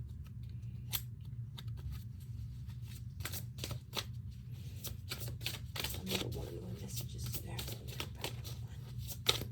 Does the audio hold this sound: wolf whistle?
no